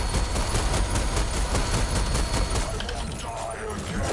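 Enemy gunfire in the video game SPRAWL, a dense, steady barrage of rapid shots running continuously at high loudness with busy game sound and music mixed in.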